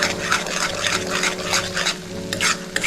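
Rajgira (amaranth) flour sheera being stirred in a pan as milk and sugar water cook off: a continuous wet, sizzling scrape of the spoon with rhythmic swishes, steady and close.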